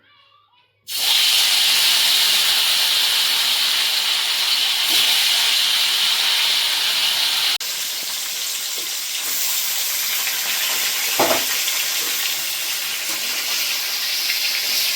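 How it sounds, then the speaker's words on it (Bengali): Rohu fish belly pieces, rubbed with salt and turmeric, drop into hot oil in a pan and burst into a loud, continuous sizzling hiss that holds steady for the rest of the clip, with no voices. "এরপর মাছ ভাজা শুরু।"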